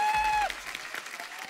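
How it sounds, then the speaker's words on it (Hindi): TV studio audience applause on a comedy talk show patters steadily after a sustained electronic tone fades out, moderately loud and even throughout the short stretch. "जोरदार तालियां अक्षय बाजी के लिए।"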